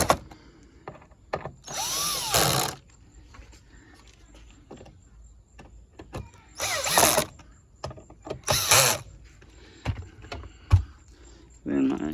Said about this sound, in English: Use the cordless screwdriver on its lowest setting to run these in.